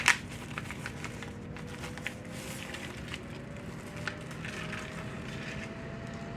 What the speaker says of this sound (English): Let's unwrap these babies.